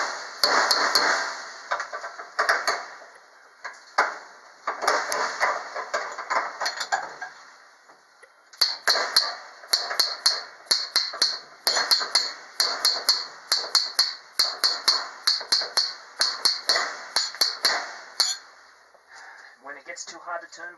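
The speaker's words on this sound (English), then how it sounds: "just little by little, hammer and turn" Metal-on-metal hammer strikes on a metal spike ring out in bursts, then settle into a steady run of sharp clangs as the spike is hammered and turned, with voices talking at times.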